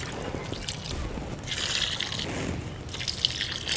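About two cups of liquid are poured around potted rose plants in a rooftop garden, giving a soft splashing trickle that swells in two bursts over faint background noise.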